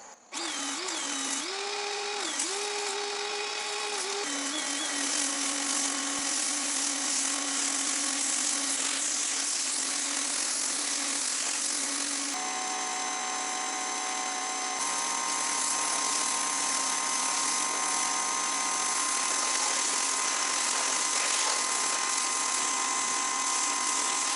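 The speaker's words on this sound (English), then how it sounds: "I'm grabbing the pressure washer and I'm going to get everything off this wall" A pressure washer blasting a house wall during exterior prep for painting gives a continuous loud, high whining spray with a shifting motor tone throughout, close by and with no voices.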